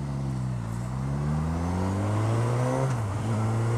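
A Suzuki GSX-S1000 motorcycle engine pulls hard under acceleration, rising in pitch through a gear change and climbing again, loud and close, mixed with steady wind rush.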